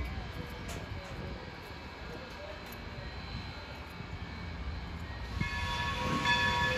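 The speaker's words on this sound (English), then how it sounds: "Departing at 10 is New Hope and Ivyland 280, number 40, built 1925 by Baldwin Locomotive Works" New Hope and Ivyland Railroad No. 40, a 1925 Baldwin steam locomotive running as train 280, departs as a low, rumbling drone. It grows louder near the end as faint tonal whines emerge.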